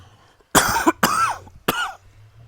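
Three sharp coughs in quick succession from a person, close and loud over a quiet background, each burst short with brief gaps between.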